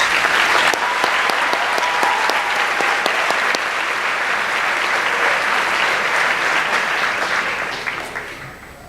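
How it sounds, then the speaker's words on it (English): A large crowd at a school awards day applauds steadily and loudly, the clapping holding strong before tapering off near the end. "Let's give them one more round of applause."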